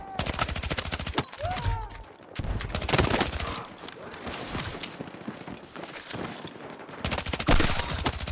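Rapid bursts of SGX submachine gun fire in the Battlefield 6 video game, loud and close, with short clattering strings broken by brief pauses and busy battle noise behind.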